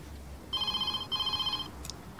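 A telephone rings in two clear bursts in an office setting, each a bright trilling electronic ring, with a short gap between them and no talk over it.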